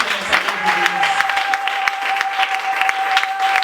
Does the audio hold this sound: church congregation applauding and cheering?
yes